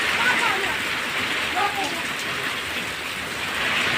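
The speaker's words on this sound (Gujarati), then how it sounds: "તમને વરસાદનો પણ વિડીયો બતાવું કેવો વરસાદ અહીંયા પડતો હતો." Heavy rain pours down on a farm during a windstorm, a dense, steady roar of falling water that holds constant throughout and sounds close and loud.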